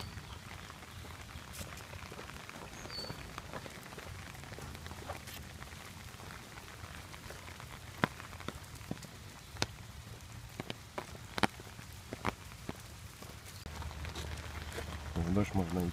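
Rain falling outdoors on a walk, a steady soft patter with scattered sharper drops hitting nearby surfaces, continuous throughout with no voices.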